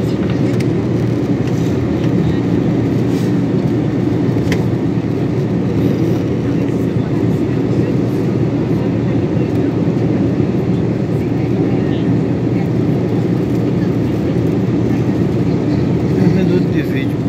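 Constant broadband roar of an airliner cabin in flight, a steady engine and airflow drone that fills the whole clip at even loudness.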